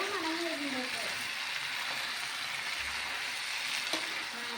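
Chicken dropped into a pan of chilli sauce sizzles steadily as a broad, even hiss close by, while a faint voice talks underneath at the start.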